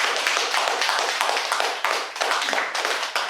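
An audience at a Buddhist Saturday service breaks into dense, sustained applause, many hands clapping close and loud with slight swells and dips throughout, with no talking.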